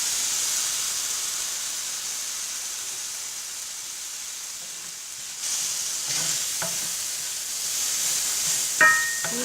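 Mushrooms go into a hot pan of spiced base for palak mushroom curry, with a steady sizzling hiss throughout and a few scraping stirs and clinks toward the end, near and fairly loud.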